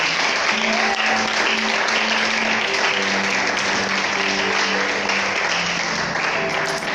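A church congregation applauds and acclaims the Lord, with steady loud clapping and cheering sustained throughout and a few voices and musical tones rising within the crowd noise.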